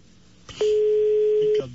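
A steady one-second telephone line tone sounds on a phone call, preceded and followed by short clicks, with a little background noise around it.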